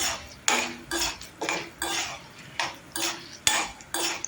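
A utensil scrapes and knocks against a pan while urad dal is stirred as it roasts, in a quick rhythm of about nine sharp metallic strokes, close and clear, with no voices.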